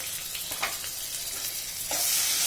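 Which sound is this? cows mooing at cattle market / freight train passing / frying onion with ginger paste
frying onion with ginger paste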